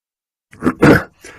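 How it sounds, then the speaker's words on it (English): A person blows their nose during a talk on creating immersive spaces for education, giving a few close, rough bursts of breathy, snorting noise. "just going to blow my nose"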